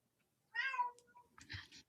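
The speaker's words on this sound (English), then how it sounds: "That's my cat," Pet cat meowing indoors near a microphone, one drawn-out meow followed by a shorter second call, fairly faint against a quiet background.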